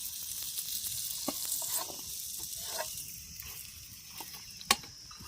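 Chilapi fish pieces coated in rava fry crisply in a pan, a steady soft sizzle with small pops and one sharp crackle near the end, close and fairly quiet.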